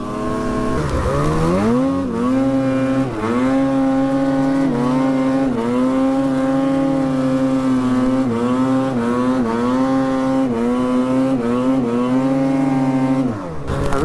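Snowmobile engine revving steadily in snowy backcountry, a loud, continuous droning whine that rises and dips in pitch as the throttle changes, close up and without talk.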